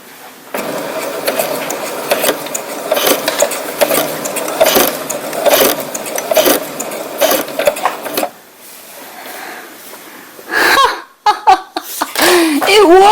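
A Brother CS6000i sewing machine runs in quick, steady bursts of stitching, loud and close, then falls silent before brief handling clicks and rustles at the end.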